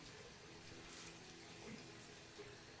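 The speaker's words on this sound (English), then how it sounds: "Let me throw some water on my face." Before shaving, water from a running tap is splashed onto the face at a sink, a steady hiss of flowing water with faint splashes and no talk.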